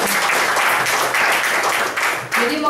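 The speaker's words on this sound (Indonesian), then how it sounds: "tepuk tangan buat Prudential." Audience at a Prudential Power Day event breaks into applause, with brisk, dense clapping that holds loud for a few seconds, a brief dip midway, and a voice faintly audible near the end.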